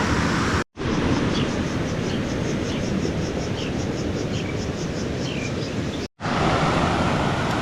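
Constant rushing water, a broad steady flow close by as a creek enters the Cumberland River, with two brief cutouts and no speech.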